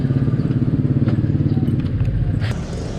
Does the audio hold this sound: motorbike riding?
yes